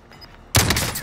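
A single loud sniper rifle shot from the video game Call of Duty: Modern Warfare cracks out midway after near-quiet, followed by a broad ringing tail and faint extra reports.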